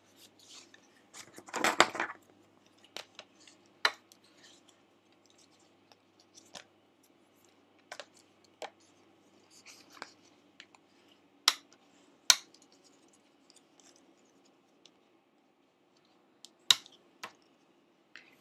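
Paper for a handmade mini album being scored along fold lines: sparse, sharp clicks and short scraping strokes, close and fairly quiet, with one brief louder rustle near the start and long quiet gaps between.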